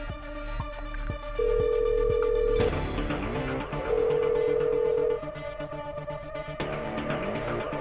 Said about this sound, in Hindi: अर्जुन का है, उसे फोन करती हूँ।